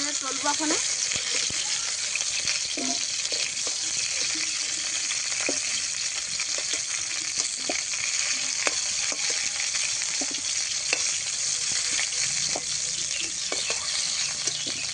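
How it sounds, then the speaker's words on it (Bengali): Potato and pointed gourd slices sizzle steadily in hot oil in a pan, with a ladle clinking and scraping now and then as the pieces are stirred; a loud, continuous frying hiss throughout. "ভাজাটা হয়ে গেছে এখন তুলে নেব আলু আর পটল ভাজা হয়ে গেছে"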